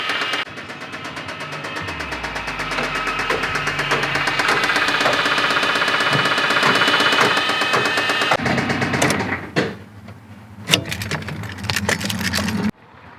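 Rapid metallic knocking from a Subaru Legacy GT engine with a suspected failing rod bearing, a loud regular tapping that runs steadily, then cuts out and returns in short bursts near the end.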